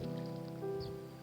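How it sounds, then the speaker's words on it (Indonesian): Light drizzle falls while fishing for climbing perch at their nest, a soft, steady patter under a faint constant hum. "Agak gerimis ya"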